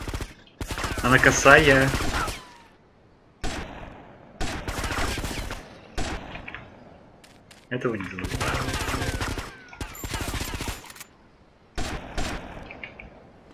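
Gunfire in the video game GTA Vice City comes in repeated rapid bursts of automatic shots separated by short pauses, loud and close, with someone speaking briefly between volleys.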